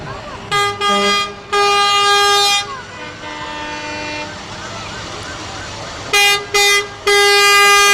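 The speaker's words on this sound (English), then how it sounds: "The fire trucks coming through now." Bright red fire trucks sound loud air horns while rolling through a nighttime parade of lights, with several long blasts and short bursts rising over crowd noise and a commentator talking between them.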